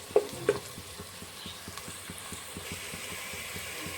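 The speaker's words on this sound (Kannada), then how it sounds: "ನೀವು ನೋಡ್ರಿ ಈರುಳ್ಳಿ ಫ್ರೈ ಮಾಡ್ತಾ ಇದ್ದೀವಿ ಚೆನ್ನಾಗಿ ಫ್ರೈ ಆಗಿದೆ" Onions fry in a pan for a chicken sukka dish, a steady sizzle running throughout while a utensil scrapes and stirs in regular strokes, with two sharper knocks near the start; no one speaks.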